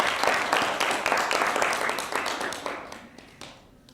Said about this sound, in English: Can I hear a round of applause, please?